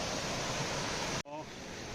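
Small stream of water flowing near Kallegaon Waterfalls by Asifabad, a steady broadband rush close by, briefly cut off and then resuming slightly quieter with a faint voice beneath.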